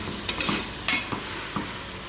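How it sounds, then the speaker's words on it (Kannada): Potatoes, peas, cauliflower and other cut vegetables fry in oil with salt, a close sizzle broken by a few quick scraping stirs of a spoon against the pan. "ಆಲೂಗಡ್ಡೆ, ಬಟಾಣಿ, ಹೂಕೋಸು, ಕಟ್ ಮಾಡಿರ್ತಕ್ಕಂಥ ವೆಜಿಟೇಬಲ್ಸು ಎಲ್ಲ ಹಾಕ್ಬಿಟ್ಟು ಸ್ವಲ್ಪ ಉಪ್ಪು ಹಾಕ್ಬಿಟ್ಟು ಎಣ್ಣೆಲಿ ಈ ರೀತಿ ಫ್ರೈ ಮಾಡ್ಕೊಳ್ಳಿ"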